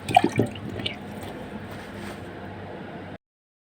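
Water splashing and trickling into a pot holding cow trotters in a home kitchen, a few sharp splashes at first, then a steady soft pouring that stops abruptly.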